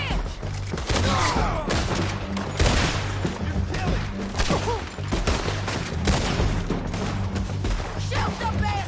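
Heavy, continuous gunfire during a Red Dead Redemption 2 bridge fight, many overlapping shots and impacts loud and close, with voices shouting through the din.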